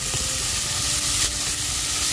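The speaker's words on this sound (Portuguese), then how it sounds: "Já tá bem quente, gente, essa panela. Eu já vou colocar a carne, uma quantidade pequena de carne." A small amount of meat for bolognese sauce sizzles and fries in a very hot pan, a dense, continuous crackling hiss heard up close with no talking.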